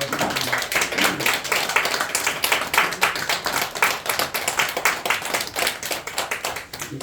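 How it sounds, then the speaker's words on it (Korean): Church congregation clapping to welcome the pastor at a Christmas morning service, many hands applauding in a dense, slightly rhythmic patter that continues throughout. "우리 목사님 나오실 때 같이 우리 교육자들 분들을 위하여 같이 박수로 환영이 올립니다."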